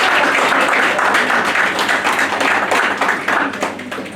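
An audience at a talk on chastity and family gives a round of applause, a dense continuous wash of many hands clapping that stays loud and steady before tapering slightly at the end.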